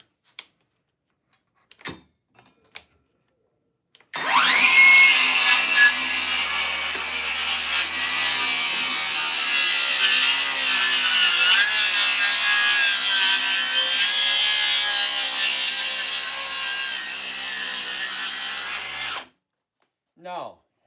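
A circular saw plunge-cuts into pressure-treated wood, a loud continuous cut of about fifteen seconds after a few brief knocks, with the motor cutting off sharply at the end.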